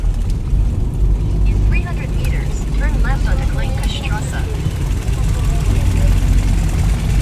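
A horseless carriage runs through Berlin with its engine rumbling low and loud and steady throughout, while people talk and exclaim excitedly close by.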